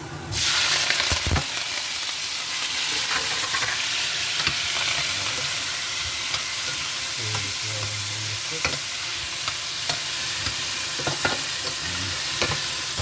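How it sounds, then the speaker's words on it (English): Garden seasoning with garlic sautéing in a frying pan, a loud steady sizzle and crackle throughout, with occasional scrapes and taps of stirring. "Let it saute before I add my salted fish"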